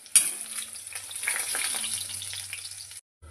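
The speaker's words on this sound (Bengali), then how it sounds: "লাল লাল করে ভাজা হয়ে গেছে।" Soya nuggets fry in hot oil with a dense, steady sizzle and crackle, close and continuous for about three seconds before stopping abruptly; no one speaks.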